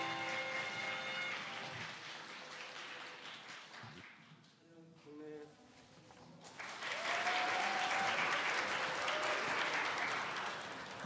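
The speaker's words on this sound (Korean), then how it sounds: "우리 큰 박수로 15분의 장로님들 만나보겠습니다." Church congregation at a Christmas service in Seoul bursts into loud, sustained applause after a quieter stretch with some speaking, the dense clapping rising and holding strongly through the second half.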